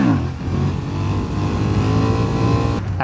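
A 2023 Honda CB750 Hornet motorcycle engine revs hard and loud, its steady harmonic drone rising and holding for about three seconds before dropping briefly near the end.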